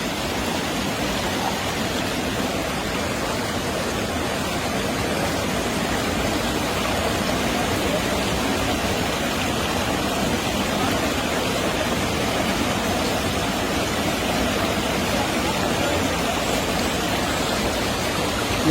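River water rushes steadily at a countryside outing spot, a loud, dense and unbroken flowing roar close by, with no voices heard.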